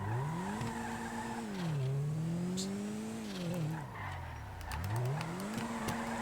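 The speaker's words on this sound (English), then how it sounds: "All you're doing is you're just hitting the e-brake and sliding with an angle." In a racing video game, a car drifts on the e-brake with tyres squealing in long sliding sweeps while the engine revs rise and fall repeatedly. Close and steady, with no talk.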